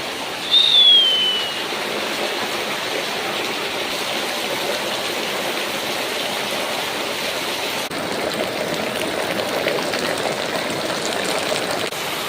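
Early monsoon rain in the Konkan countryside falls steadily and densely, a loud, continuous hiss that lasts throughout, with one brief bird call near the start.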